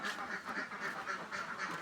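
Laying ducks in an enclosed duck house quack repeatedly in a steady, overlapping rhythm, close by and moderately loud, with no voices.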